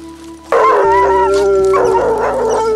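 Scent hounds bay on a hare hunt outdoors: a loud, sustained run of overlapping howling cries that starts abruptly and carries on without pause, with no talking.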